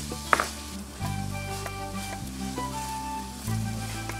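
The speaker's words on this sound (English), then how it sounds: "stir in the onion, celery, and cook for 3 more minutes." Chorizo with onion and celery sizzling in a soup pot, a steady frying hiss with a sharp clink near the start and soft shifts as the food is stirred.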